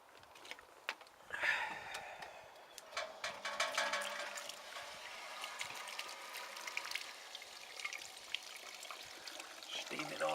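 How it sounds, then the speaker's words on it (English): Water runs through a wort chiller during an all-grain IPA brew day, a soft continuous trickling and splashing that stays fairly faint with small clatters, and a voice speaks briefly. "Get the water chiller in, turn her on and get her going."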